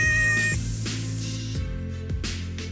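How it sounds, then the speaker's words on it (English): A cat on a beach in Japan meows several times in short, nasal cries, close and fairly clear over a faint background hum. "I found a bloody cat too"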